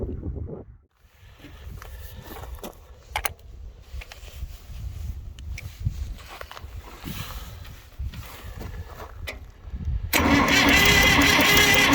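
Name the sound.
Case 800 tractor engine cranking over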